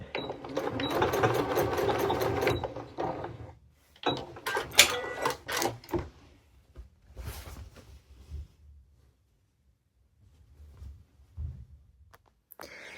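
A sewing machine stitches fabric in a short loud continuous run, then gives several brief start-stop bursts and scattered clicks before going quiet.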